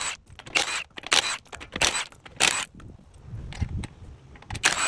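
Loose new black lug nuts for a Toyota 4Runner clink and rattle in a hand, a run of bright metallic jingles and clacks close up, with short quiet gaps between handfuls.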